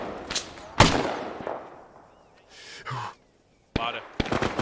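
Gunfire aimed at a Jeep on a road beside a tank in the war video game Battle of Salerno, heard as loud sharp bursts with a close crack, then a quiet stretch and more rapid shots at the end.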